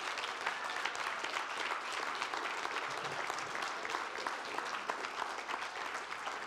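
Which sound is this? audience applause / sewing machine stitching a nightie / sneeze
audience applause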